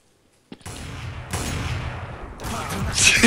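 Gunfire in Counter-Strike: Source, a sudden loud burst of rapid automatic shots breaking in after a brief silence, then sustained crackling volleys and a brighter, harsher burst near the end, no voices over it.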